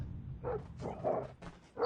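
A dog in the shooter game Call of Duty Mobile gives several growling, gruff barks in quick succession over low background noise.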